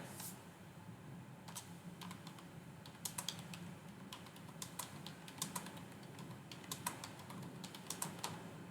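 Fingers type on a computer keyboard in bursts of quiet, close key clicks over a faint room hum, with no talking.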